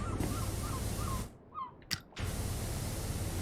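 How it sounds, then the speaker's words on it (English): Seagulls in the video game Powerwash Simulator give a series of short cries over a steady wash of game noise, which drops out briefly midway. "Sound of seagulls."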